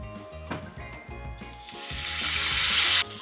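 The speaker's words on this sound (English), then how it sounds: "nice sizzle, nice caramelisation" A honey-coated mushroom sizzles loudly in a hot frying pan, the hiss swelling and growing steadier before cutting off abruptly; no one speaks.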